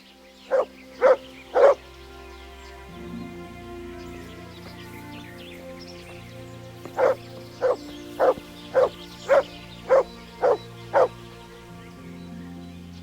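Dog in the video game Kingdom Come Deliverance barks in two bursts, three quick barks followed after a pause by a steady run of eight evenly spaced barks over quiet game ambience.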